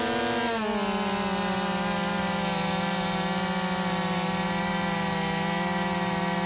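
Husqvarna 50, 51 and 55 chainsaws run at steady high revs in a horizontal log-cutting race, a loud sustained buzzing drone that dips in pitch early on, then holds evenly to the end.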